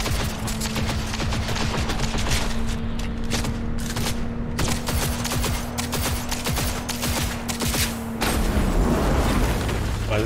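Rapid gunfire from the video game Cyberpunk 2077 rattles in dense bursts over a steady engine-like drone, with heavy booms mixed in and the shooting continuing almost without pause.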